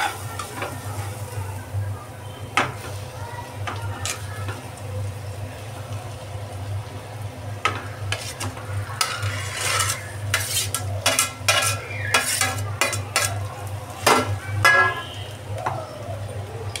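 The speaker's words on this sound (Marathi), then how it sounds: "व आता व्यवस्थित भाजी हलवून घेऊ।" A spoon stirs and scrapes a turmeric-spiced mashed potato filling for vada pav in a pan, with repeated clattery scrapes and faint sizzling over a steady low hum, no talking.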